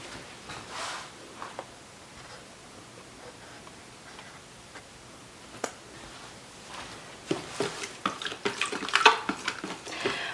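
Sourdough ingredients being stirred together in a skillet, soft scraping and clinking of a utensil against the pan, mostly quiet at first, then a quick run of louder knocks and taps near the end.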